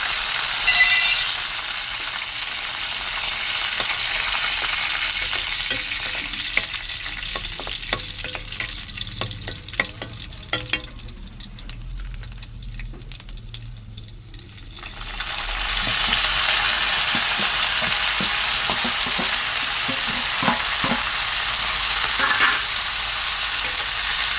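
Onions, two green chillies and a little cumin frying in a pan for a home-cooked meal: loud continuous sizzling that dips for a stretch in the middle with stirring clicks, then swells back to a strong hiss, no talk.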